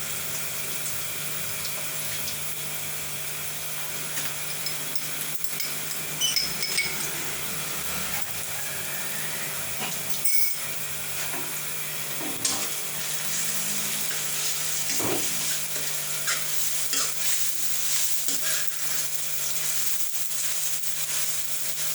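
Garlic hits softened onions frying in a pan for a spinach and egg dish, giving a steady, close sizzling hiss that runs throughout with occasional small clinks.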